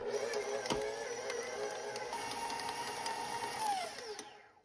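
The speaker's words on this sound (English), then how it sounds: "In a stand mixer, add 1 cup of unsalted butter, softened, and 16 ounces of cream cheese. Then beat on medium-high speed until smooth." A stand mixer beats softened unsalted butter and cream cheese at medium-high speed for a carrot cake frosting, giving a steady whirring motor hum that winds down and stops at the end.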